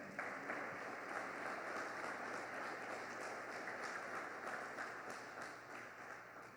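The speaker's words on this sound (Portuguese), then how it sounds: "Se você crê nisso, aplauda o Senhor então." A church congregation applauds during a sermon, a soft, distant wash of continuous clapping over a low steady hum, fading a little near the end.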